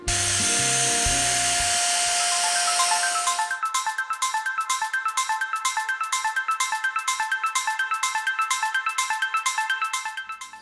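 A flat Dyson Airwrap dupe blow dry brush runs on its highest setting, giving a loud, steady whooshing whine with a bright tone that shifts after a few seconds into a fast, regular pulsing buzz until the end. No one speaks.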